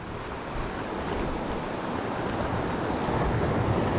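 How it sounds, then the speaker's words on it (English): Strong head-on wind blows steadily across a sea shore during an outgoing tide, a dense, continuous roar with wind buffeting the microphone and surf mixed in, growing slightly louder toward the end. "It's got that head-on wind, it's a bit of a pain."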